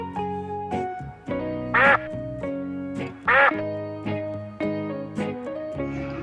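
A duck quacks twice in loud bursts over a bright, melodic music backing, with short pauses between the calls.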